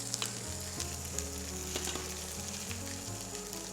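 Urad dal and dry chillies frying in hot oil for a vegan coconut sambol, a quiet, steady sizzle with faint crackles, and a low hum running underneath throughout.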